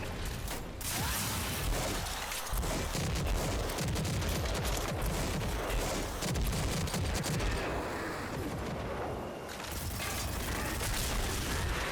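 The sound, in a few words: rocket launcher fire in video game Rage 2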